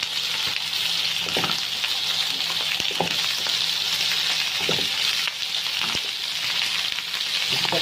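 Kofta sizzling steadily in hot oil on a griddle, a dense continuous close hiss with occasional pops and light scraping throughout.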